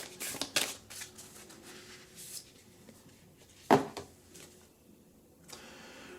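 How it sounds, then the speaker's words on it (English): A Moonology oracle card deck is shuffled by hand, making soft, irregular rustling and tapping with one sharper snap midway. The sound is close and quiet, with no talking. "Let's go ahead and shuffle."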